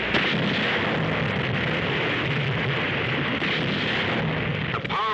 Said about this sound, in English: The powerful 16 and 14-inch guns of these Japanese dreadnoughts were leveled against the light batteries of our escort vessels.